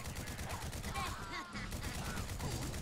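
An unsuppressed HK G11 mod rifle in Fallout 4 fires a rapid automatic burst of closely spaced shots, loud and continuous, with a brief pause midway before firing resumes.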